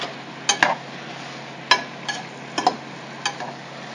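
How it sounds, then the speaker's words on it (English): Garlic stirred in a frying pan while cooking Mexican steak: a few sharp utensil scrapes and clinks against the pan over a steady low sizzle. "I'm gonna shake it again. I mean, not shake it, stir it."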